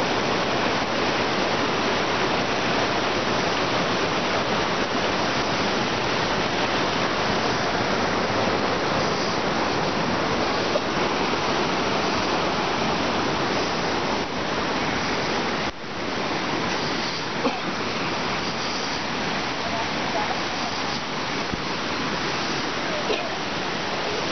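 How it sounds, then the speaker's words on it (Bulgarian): Water rushes steadily and loudly at the source of the Kamchia river, a continuous close-up gurgling flow like a small stream or waterfall that runs unbroken throughout. "И от тук започва своето начало река"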